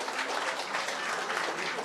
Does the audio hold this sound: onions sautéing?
no